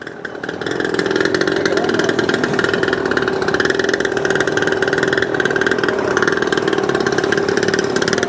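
A brand-new 49cc pocket bike engine runs after starting, a steady, loud, buzzy idle with a rapid raspy pulse that holds evenly close by.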